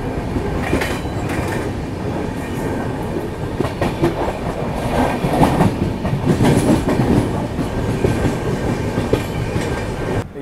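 Telangana Express passenger train running on the rails, with a steady, loud rumble and rhythmic clickety-clack of wheels over track joints throughout, heard close from on board.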